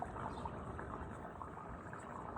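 A steady rushing, gurgling wash of rainwater from a downspout flowing through an underground drain pipe, continuous and fairly soft with no voices.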